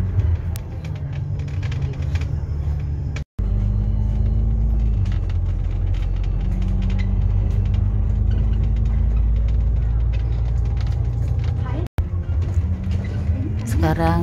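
Riding inside Hong Kong bus route 68 from Yuen Long to Tsuen Wan: a loud, continuous engine rumble and low hum shift pitch as the bus pulls away from a stop, with a voice talking over it.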